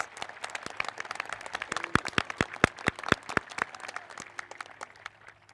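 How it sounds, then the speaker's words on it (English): Audience at a Boonsboro graduation ceremony applauding the graduating students, with a moderate scattering of individual hand claps that swells to sharper, louder claps in the middle and then thins out. "Let's give all these students a round of applause."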